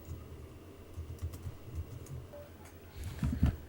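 Someone types a new layer name on a computer keyboard, producing quiet, irregular key taps that are faint and close, ending in a few slightly louder clicks.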